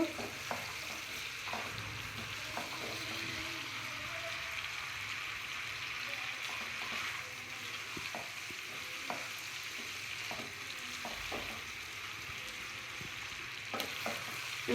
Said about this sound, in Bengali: চিকেন দিয়ে এখন আমি মশলার সাথে একদম ভাজা ভাজা করবো